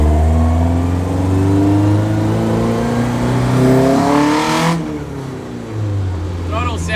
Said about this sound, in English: Throttle sounds so sick.